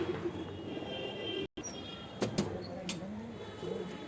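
Pigeons kept by a breeder in West Bengal coo in low repeated murmurs, close by, with a few sharper clicks and a brief dropout partway through.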